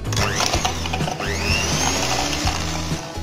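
An electric mixer whirs steadily while beating eggless cake batter until fluffy, a close continuous motor drone with small shifts in pitch as the beaters move through the bowl.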